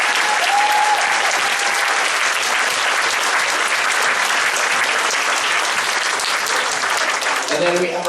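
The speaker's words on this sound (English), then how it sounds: "if we could have a big round of applause for Miss Sharon and all the things that she does for the orchestra." Loud, dense applause from an orchestra concert audience fills the space for about eight seconds, with a brief tone near the start and a few voices as the clapping thins at the end.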